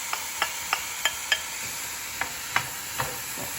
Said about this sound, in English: All of this gets nicely sauteed here.